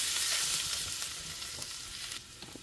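Chopped garlic sizzles steadily in melted butter with a little olive oil in a pan, a loud, continuous close-up frying hiss with faint crackles throughout.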